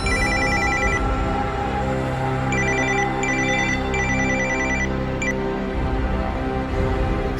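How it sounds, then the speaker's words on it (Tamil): A telephone rings in a home, loud repeated electronic trill bursts in a steady rhythm over a dense background of music, with no talk. "உங்களுக்கு ஃபோன் வருதுமா?"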